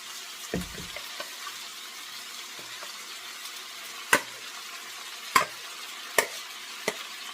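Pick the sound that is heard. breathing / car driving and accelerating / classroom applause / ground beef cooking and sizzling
ground beef cooking and sizzling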